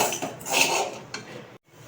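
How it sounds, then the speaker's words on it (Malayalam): Egg pickle being stirred in a pan after eggs go in, with spoon-on-metal scrapes and light clinks against the pan coming close and fairly loud in short bursts, then a brief pause near the end. "ഇതിലോട്ട് നമുക്ക് മുട്ടയും ചേർത്ത് നല്ല ഇളക്കി കൊടുക്കാം."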